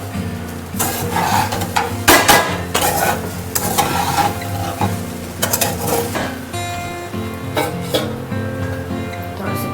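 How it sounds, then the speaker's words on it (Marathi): A spoon scrapes and clinks steadily against a pan as sabudana khichdi is stirred and roasted on a low gas flame, with irregular metallic knocks over a faint sizzle and a steady background hum. "थोडं थोडं असं बारीक गॅसवर चांगली परतून घ्यायची खिचडी"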